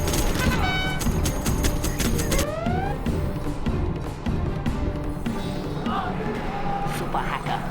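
Gunfire from Command and Conquer Generals Zero Hour sounds as rapid, evenly spaced shots early on, then gives way to a busy mix of battle noise, with unit voices speaking over it.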